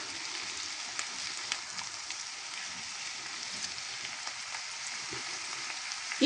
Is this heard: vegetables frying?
yes